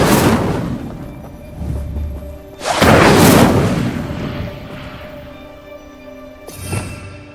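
An Incendio fire spell is cast in the video game Hogwarts Legacy: loud, roaring whooshes of flame burst out three times, with the middle blast the heaviest, each fading into a low rumble.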